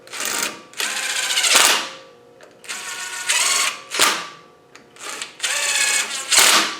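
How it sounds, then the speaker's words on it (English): An air impact gun spins down hub bolts on a white Land Rover 90 300Tdi during a hub and disc rebuild, firing about five loud rattling bursts of roughly a second each, separated by short quiet gaps. "I'm just going to spin these down with the gun"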